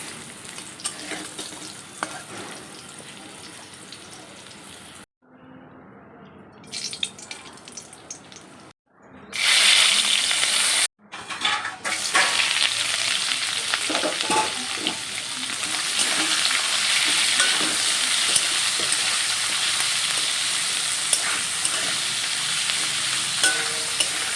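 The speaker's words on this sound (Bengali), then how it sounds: "আলুগুলো ভেজে তুলে নেব নিয়ে তারপরে মাংসটা তুলবো" Potatoes frying in a pan give off a steady, hissing sizzle, broken by a few abrupt cuts, with a louder watery crackle building through the second half.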